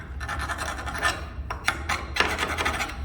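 A hand file rasps over a custom-made metal piece for a restored 1920s industrial window, taking off burrs in several uneven scraping strokes, close and fairly loud with short pauses between passes.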